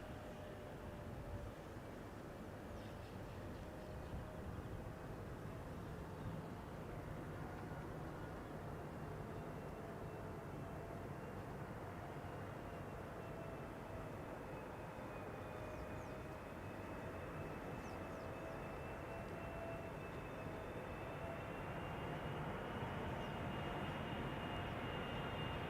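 A Transavia airliner arriving from Ljubljana approaches Schiphol's Polderbaan runway, a continuous broad jet roar heard at a distance with a slowly shifting engine whine, steady throughout.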